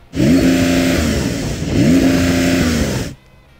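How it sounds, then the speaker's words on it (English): A Porsche 911 Turbo S revs while parked, twice climbing sharply and holding against its soft limiter in a loud, steady buzzing drone, then cutting off abruptly to a quiet idle. "This is what a 911 Turbo S sounds like when you're stationary revving it."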